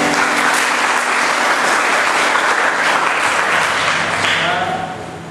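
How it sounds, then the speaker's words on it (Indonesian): An audience at a worship gathering breaks into loud, sustained clapping, a thick wash of many hands that fades slightly near the end, with a voice faintly underneath. "Berikan tepukan."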